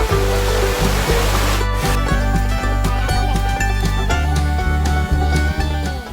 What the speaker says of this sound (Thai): น้ำตกแห่งนี้ก็เป็นลำธารที่เป็นน้ำร้อนใต้ดินนะครับผุดขึ้นมา